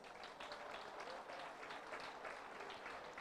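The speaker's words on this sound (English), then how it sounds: "Let us clap for the awards committee friends." An indoor audience at a district conference claps steadily for the awards committee, a dense continuous wash of applause without pause.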